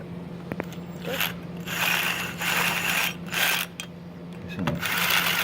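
Screws are driven in by hand to fit diaphragm clamps onto an armature, giving close ratcheting clicks in short repeated bursts over a faint steady hum.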